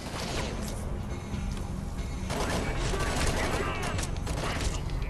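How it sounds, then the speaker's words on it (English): Enemy gunfire in the video game Homefront The Revolution, a dense continuous spray of shots and clattering mechanical impacts that stays loud across the whole stretch, with speech mixed underneath. "Oh, they're shooting at me!"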